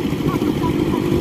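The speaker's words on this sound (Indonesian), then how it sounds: "Nah ini nih ada motor nih." Motorcycle engine idling and rumbling nearby at an outdoor winter gathering spot in an Arab country, a steady low throb with faint talk underneath.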